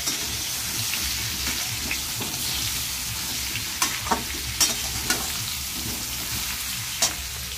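Potatoes fry in a pan and are stirred. A steady, close sizzle runs throughout, with a few sharp spatula clicks and scrapes near the end.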